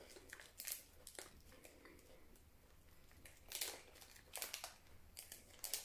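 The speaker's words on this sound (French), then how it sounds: "J'ai refermé le paquet." A snack packet from a Japanese candy box being closed, the wrapper giving off quiet, close crinkles and crackles in short irregular bursts with brief pauses between.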